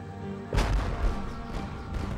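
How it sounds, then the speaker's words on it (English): Cannon broadsides fired between sailing warships in an 1812 naval battle: a sudden heavy boom followed by rumbling, rolling reports and a further thud, loud over a constant low background. "just started trading broadsides with the two principal British ships on both sides"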